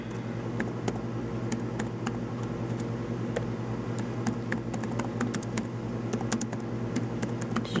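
Fingers tap out a Python program on a computer keyboard, a quiet, fairly close run of irregular clicking keystrokes with short pauses, set against a low steady background rumble.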